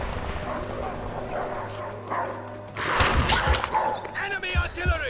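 Attack dogs from a Call of Duty killstreak bark and yelp in sharp, loud bursts over game noise and a speaking voice, with clattering effects and overlapping barks growing busier toward the end.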